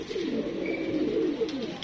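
Grey domestic pigeons coo softly in a continuous low, rolling murmur, close by and fairly quiet, with a faint higher chirp briefly mixed in.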